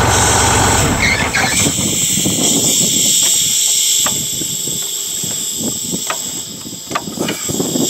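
A 1963 Flxible Fish Bowl bus leaks air from its brakes with a steady, loud hiss that persists through the whole stretch, mixed with idling engine rumble and scattered clanks.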